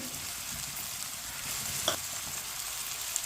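Finely chopped tomatoes and green chillies fry in a pan while a spoon stirs them, a quiet steady sizzle with a sharp scrape of the spoon near the middle, close and free of speech.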